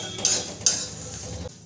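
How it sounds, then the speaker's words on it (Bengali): A spatula clinks and scrapes against a pan while whole spices are stirred for a jujube pickle, with two sharp metallic knocks followed by continuous scraping, close and fairly loud. "মশলাটা অনবরত নেড়েই ভালো করে ভেজে নিতে হবে"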